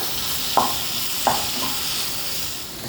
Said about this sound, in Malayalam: ഇതിലേക്ക് അരിഞ്ഞു വെച്ചിരിക്കുന്ന പാവയ്ക്ക ചേർത്ത് കൊടുക്കാം അതുകൂടിയിട്ട് നന്നായിട്ടൊന്ന് വഴറ്റിയെടുക്കാം